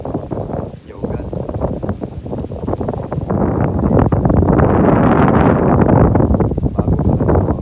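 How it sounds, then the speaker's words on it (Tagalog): Strong wind gusts buffet the microphone at Lacawon Island Resort in Cadiz City, a loud continuous roar that grows heavier midway, with a person talking over it. "lakas ng hangin guys, oh"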